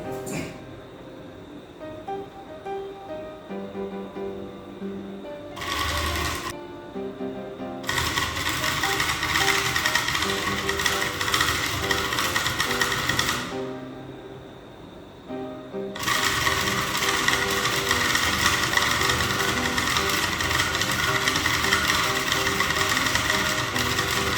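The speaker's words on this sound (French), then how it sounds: "on va passer à la pratique pour voir comment est-ce que cela va tourner" A homemade electric motor spins with a steady buzzing whir that stops briefly twice and then starts again, running close and fairly loud with no talking.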